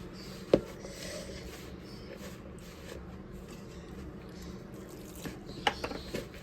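Water trickles and splashes faintly into flour in a bowl as dough is mixed and kneaded by hand for a crisp sweet dessert, with a soft drip-like burst near the start and a few small splashes near the end over steady background noise.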